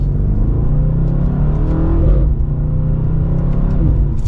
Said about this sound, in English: the sound of this exhaust